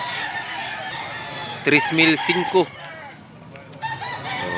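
A big-bodied rooster over two years old gives one loud, close crow in the middle, rising out of steady background chatter and outdoor noise, while someone talks briefly.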